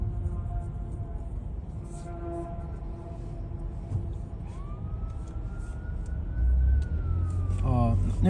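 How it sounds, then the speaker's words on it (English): A distant fire truck siren rises and holds a long wail over traffic rumble in Mississauga, Ontario, growing somewhat louder toward the end, with a faint horn-like tone. "until I heard this fire truck"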